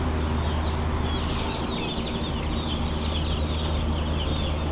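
Chicks in a brooder peep and cheep continuously in a dense, steady chorus, with a low constant hum of equipment or airflow beneath and no talking.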